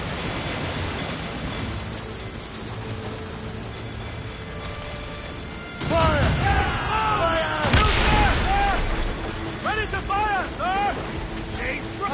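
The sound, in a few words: ship cannon fire in naval battle, Assassin's Creed Rogue video game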